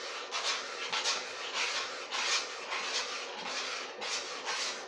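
Spoon scraping and stirring a thickening béchamel sauce in a pan, soft repeated rubbing strokes in an even rhythm, close but quiet, with no voices.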